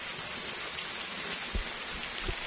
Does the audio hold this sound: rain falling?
yes